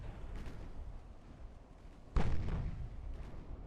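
A heavy shell hit from a 14-inch naval gun strikes a warship in the naval combat game Ultimate Admiral Dreadnoughts, landing as one sudden loud boom that rumbles away over a steady low background of battle noise.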